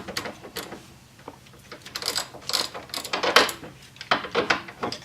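A ratchet works on nuts during removal of a truck's steering column, with clusters of quick metallic clicks and clanks close by, irregular and uneven in rhythm.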